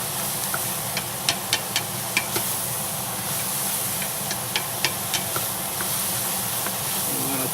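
Mushrooms seasoned with salt and pepper cooking down in a pot for cream of mushroom soup give a constant soft steamy hiss, with light clicks from stirring scattered over it.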